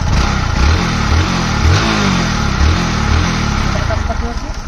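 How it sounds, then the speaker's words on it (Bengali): A Honda motorcycle engine runs at idle and is revved repeatedly with the throttle. Its loud, close, pulsing drone rises and falls in even surges. "এটাকে যদি আমি ঘোরাই দেখবেন ইঞ্জিনের শক্তিটা বাড়বে"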